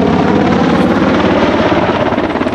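An Apache attack helicopter holds a hover after a 360-degree quick stop, its rotor a loud, steady, close throbbing drone with dense chopping pulses that never let up.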